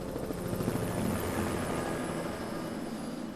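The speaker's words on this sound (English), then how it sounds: "The helicopter is lowering down an orange bucket." A helicopter hovering over a lake while lowering a water bucket for firefighting, its rotor chopping in a steady rapid throb, close and continuous, with no voices.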